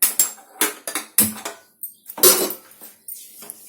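Metallic clanks and scrapes come from a pressure cooker lid being opened in a home kitchen, as a series of sharp, close knocks and rattles arrives in irregular bursts with brief quiet gaps between them.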